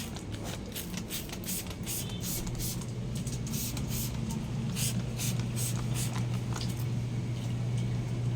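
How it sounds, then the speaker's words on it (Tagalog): Fragrance is sprayed onto a dog at bath time in a series of quick, hissing bursts repeated in a steady rhythm over a low background hum, close and moderately loud. "Spray ng kabango."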